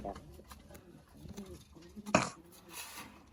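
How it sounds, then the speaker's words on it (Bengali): Soft pigeon coos come in low, breathy bursts nearby, with a voice and a brief clatter mixed in. "এটা আমার খুবই পছন্দের একটা কবুতর"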